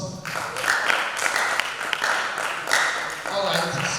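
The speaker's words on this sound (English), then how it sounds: "Let's give her a round of applause." An audience claps together in a goal-setting and time-management session, a dense, steady wash of hand claps lasting the full four seconds, fairly close and full, with possible voices mixed in.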